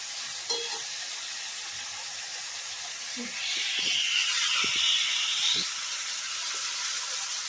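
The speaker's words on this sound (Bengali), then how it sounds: "এদিকে পেঁয়াজটা ভাজতে বসিয়ে দিলাম" Onions frying in a pan in a home kitchen, a steady close hiss that swells midway, with scattered clinks and knocks around it.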